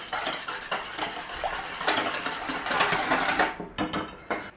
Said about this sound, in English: Give it a little beat up. Add that to that. Take your whisk.